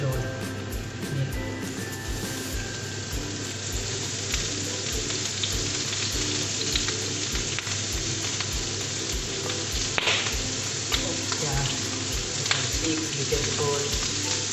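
Pork jowl meat frying with garlic in a pan sizzles loudly and steadily throughout, with brief stirring scrapes and a faint voice now and then in the background.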